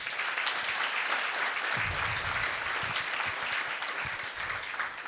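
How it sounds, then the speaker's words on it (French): Audience applause at a school start-of-year event, continuous and full, with a steady dense wash of clapping from a large crowd. "je voudrais que vous applaudissiez pour tout le monde"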